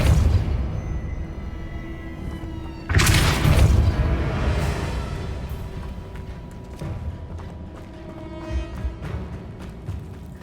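Depulso spell cast in the Hogwarts Legacy video game, a sudden booming burst near three seconds amid a busy layered game soundscape of rumbles, clatter and ringing tones.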